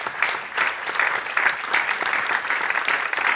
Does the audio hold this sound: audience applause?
yes